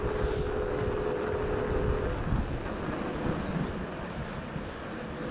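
A dual-motor Kaabo Mantis 8 Pro electric scooter is ridden at full throttle, its motor whining in a thin steady tone at first under heavy rushing wind noise that continues after the whine drops away.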